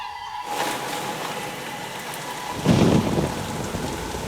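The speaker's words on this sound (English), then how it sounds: "It rained incessantly." Heavy monsoon rain pours steadily in tropical jungle, a dense wash of hiss that swells midway with a low rumble like thunder.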